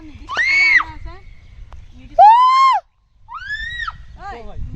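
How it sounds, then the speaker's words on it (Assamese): Loud shouted calls ring out across hills at Nainital, three or four long, strained voices in turn with short gaps, the last calls fainter as though answered from afar, over a low outdoor rumble. "ইক' হয় ইয়াতো পুৰা ইক' হৈছে চিঞৰোতে"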